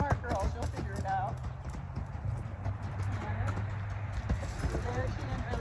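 Hooves of a Tennessee Walking Horse beat out a quick, repeated three-beat rhythm on the ground nearby, under steady talking from a woman.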